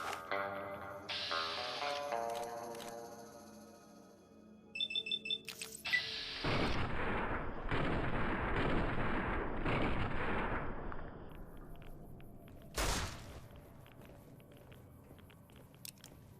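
Artillery fire in the video game Fallout: New Vegas, Old World Blues add-on: a run of heavy, rumbling booms and blasts over several seconds, with a later sharp burst, set against game ambience and music.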